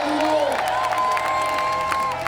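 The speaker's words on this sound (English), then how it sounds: "So I don't know if you can hear in the crowd in the background that allez." Crowd at a BMX flatland contest in Montpellier cheering and calling out, a dense sustained roar with a rising whoop and a long held voice, loud throughout.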